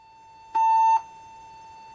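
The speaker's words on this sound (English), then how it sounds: "the other stereo channel for a beep, which was interpreted by a small gadget which then changed the slide" A single steady electronic beep tone lasts about half a second, used to trigger a slide change on a slide projector. It sounds clean and loud over a faint constant hum.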